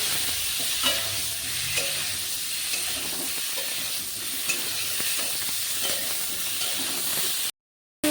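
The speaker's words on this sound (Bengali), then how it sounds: "এই তেলে আমি ফুলকপিগুলো ভেজে নেব।" Cauliflower florets fry in hot oil for Bengali fish curry, giving a loud, continuous crackling sizzle that runs steadily and then cuts off suddenly near the end.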